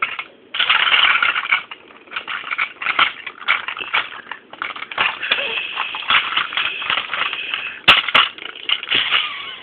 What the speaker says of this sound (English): Hank and Stanley crashed into it.